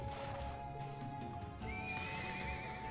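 A horse in the Trails of Cold Steel II video game, belonging to the captain of the riding club, gives a long whinny over steady hoofbeats and game music, fairly quiet in the mix.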